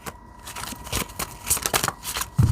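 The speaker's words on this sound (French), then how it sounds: "Donc, je prends les cartes à l'endroit." Tarot cards are handled and shuffled in quick bursts of papery flicks and riffles, close and fairly soft, with no voices over them.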